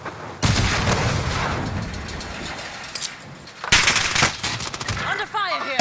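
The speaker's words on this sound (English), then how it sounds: "Under fire here. Sustaining fire." Rapid automatic gunfire from a video game, loud and sustained, with a brief gap before a second heavy burst and some echoing tails near the end.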